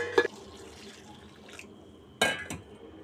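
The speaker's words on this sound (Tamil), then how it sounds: "சுத்தண்ணி ஊற்றி இதை நல்லா கழுவி எடுத்துக்க வேண்டியதான்" Short splashes and water sloshing in a few bursts as dried fish is washed in clean water, with a quieter stretch between them, close by and moderately loud.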